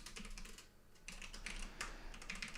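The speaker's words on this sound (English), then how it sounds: "I have a very clicky keyboard," Fast typing on a clicky computer keyboard, close and distinct, a dense run of crisp keystrokes with a brief pause partway through.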